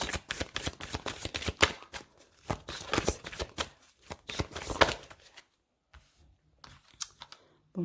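Tarot cards are shuffled in rapid bursts of crisp riffling and flicking, loud and close, with short pauses before a few final taps and slaps of the deck.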